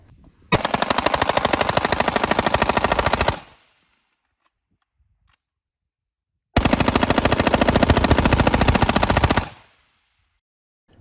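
AR-15 style rifle with a free-floated nitrided barrel and Strike Industries gas block, fired during a civilian ammunition test: two sustained rapid bursts of loud, close gunfire, each about three seconds, separated by a quiet pause.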